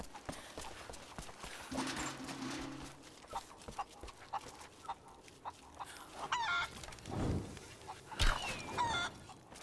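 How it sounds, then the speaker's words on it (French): Chickens in the Tomb Raider video game cluck and squawk in short bursts amid scattered clicks and thumps, with a brief low hum and a sharp screech near the end. "mais c'est que ça court vite ces poulets en plus"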